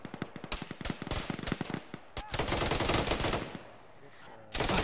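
Video game gunfire aimed at the player: rapid bursts of automatic shots crackling in quick succession, then a sustained roar of fire, loud and close.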